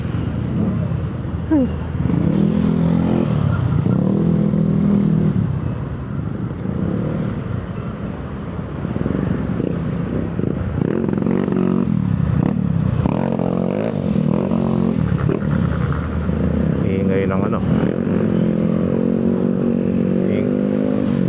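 A motorcycle engine drones steadily while riding on a scenic loop through Bulacan, a loud continuous rumble with rising and falling revs and some clatter, with someone talking over it throughout.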